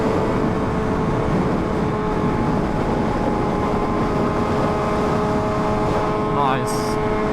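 A Honda Fireblade RRR SP motorcycle engine hums steadily at speed on a sunset ride, a constant droning tone with heavy wind rush, and a short higher whine near the end.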